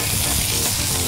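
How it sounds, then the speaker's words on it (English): King prawns sear on a hot BBQ grill, a dense, loud, continuous sizzle with no talk over a short stretch. "basically cooking these prawns for about one and a half minutes each side"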